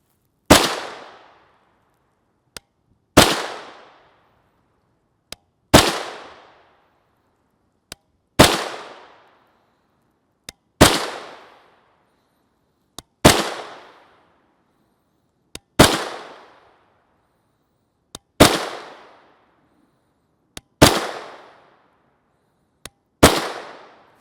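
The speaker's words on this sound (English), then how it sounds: "This is our CZ Scorpion EVO 3 S1 SBR. Very soft recoiling gun." A CZ Scorpion EVO 3 S1 short-barreled rifle fires 9mm MaxxTech 124-grain FMJ rounds, about ten sharp, loud single shots spaced evenly a couple of seconds apart, each with a short decaying tail, with no talking.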